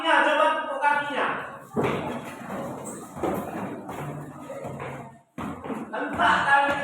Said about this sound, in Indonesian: Kakinya, coba tepuk kakinya.